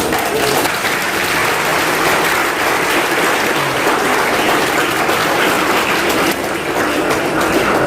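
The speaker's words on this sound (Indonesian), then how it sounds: "Kita tepuk tangan dulu." A crowd applauds a land donor at a Buddhist temple ceremony, with sustained, loud, dense clapping that continues evenly throughout.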